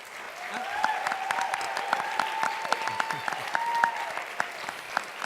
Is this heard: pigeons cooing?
no